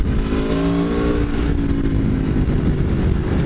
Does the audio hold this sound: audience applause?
no